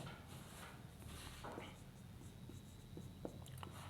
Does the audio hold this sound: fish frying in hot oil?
no